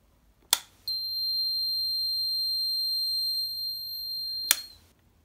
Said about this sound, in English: plug in the socket tester to make sure that this socket is wired up correctly